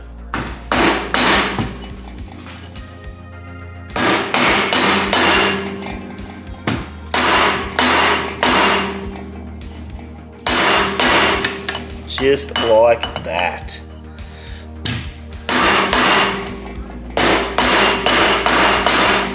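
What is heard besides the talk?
hammering a machined alloy sleeve onto a Harley gearbox main shaft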